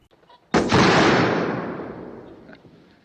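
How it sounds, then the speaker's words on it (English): A single loud rifle shot fired at flying pheasants during a hunt in the James Bond film Moonraker, with a sharp crack followed by a long, slowly fading rumble. "Bond follows the pheasants flying and shoots at the birds, but apparently misses"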